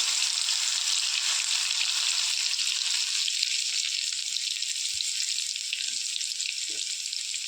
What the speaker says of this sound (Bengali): পাঁচফোড়নটা ভালো করে গরম হয়ে গেলে রসুন কুচি দিলাম।